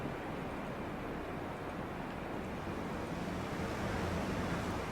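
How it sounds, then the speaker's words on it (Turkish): Ocean waves rolling onto an island shore in the video game Dear Esther, a dense steady wash of surf mixed with windy rumble, continuous and fairly loud with no voices. "Dalgalar."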